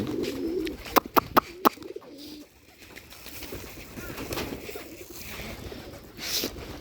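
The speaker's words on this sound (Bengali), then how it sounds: "অনেক ক্ষুধার্ত কবুতরগুলো" Bombay pigeons coo in low, soft rolling calls at feeding time, mixed with a few sharp clicks and taps early on, fairly close and quiet, with no talk.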